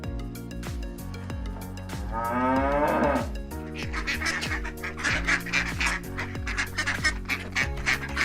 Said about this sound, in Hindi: अज़ा देते मुर्ग और मुख्तलिफ जानवरों की आवाज़ें यकीनन आपके कानों में रस घोलेंगी